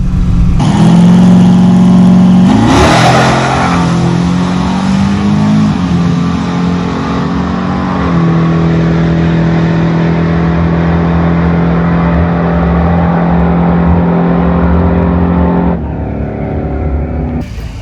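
A nitrous-equipped truck launches down a drag strip, its engine roaring loud and close in a sustained blare that shifts pitch through gear changes, while the tires briefly spin before regaining grip.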